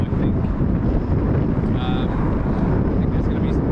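Wind blows across a microphone outdoors on a blustery day before an expected storm, giving a constant heavy low rumble and buffeting that fills the whole stretch.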